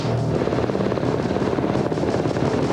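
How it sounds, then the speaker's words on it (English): A military helicopter flying without lights at night during a pararescue training exercise, its rotor producing a loud, continuous rhythmic chop with a steady low drone. "The chopper operates with no lights, just as it would in what's called a real-world situation."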